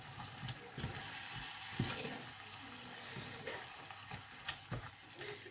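Food frying in a pan while being stirred and mixed together, a steady soft sizzle with irregular scraping and clinking from the spoon, fairly quiet and close.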